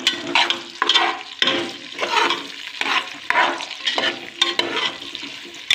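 Onion and garlic frying in a pan for upma, with a close sizzle and repeated scraping stirs in an uneven rhythm, and no talk.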